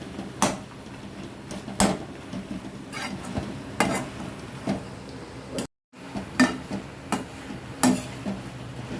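A spoon scrapes and knocks against a pan as tomatoes are stirred and sautéed, giving repeated sharp clinks over a soft, steady sizzle.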